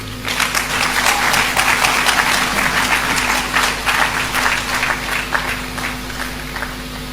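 Sustained audience applause follows a speech at the Adwumawura project launch, steady dense clapping across the hall for several seconds with a faint electrical hum beneath.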